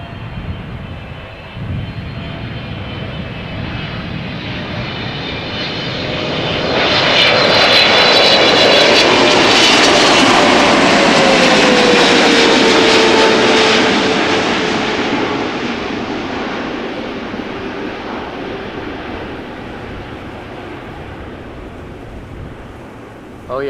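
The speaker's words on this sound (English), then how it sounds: "Let's listen to those epic GE90s." A jet airliner's GE90 engines roar closer on landing at Amsterdam Schiphol Airport, swelling to a loud, whining peak overhead before slowly fading into a distant rumble.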